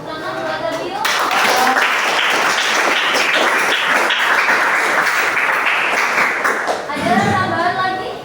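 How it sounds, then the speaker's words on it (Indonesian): A high school history class claps for a student, a burst of applause that swells after the first second and holds for several seconds before fading, with voices briefly heard before and after. "Tepuk tangan buat Adio."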